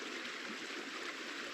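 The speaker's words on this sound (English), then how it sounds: "Down the side of the tumbling mountain was a foaming waterfall." A foaming mountain waterfall tumbling down a slope makes a steady, dense rush of water that holds at an even level throughout, with no voices.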